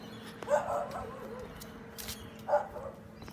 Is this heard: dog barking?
yes